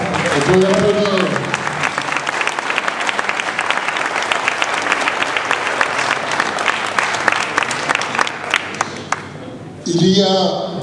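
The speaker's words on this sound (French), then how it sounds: "on peut l'applaudir." Audience applause at a public event in Mons, dense and steady for most of the span with a voice speaking over it at the start and again near the end.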